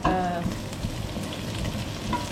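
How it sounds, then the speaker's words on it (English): Tomatoes are added to fried onions in a hot pan, and a close, steady sizzle and crackle of frying follows with a soft stirring rustle and scattered pops. Nobody speaks. "Then we have here tomatoes that I'm adding."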